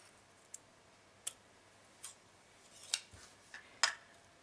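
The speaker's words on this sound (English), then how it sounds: "we're just going to cut off our thread" Small scissors snip beading thread in a series of quiet, sharp clicks, about six separate cuts spaced roughly half a second apart in an otherwise hushed room.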